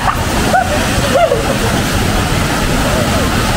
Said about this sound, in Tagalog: Naririnig nyo na ba yung ingay ng ano, ng waterfalls?